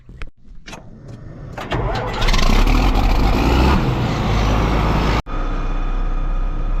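A farm tractor pulls away and drives off, its loud diesel engine building to a steady heavy rumble, briefly cutting out near the end before running on, with no talking.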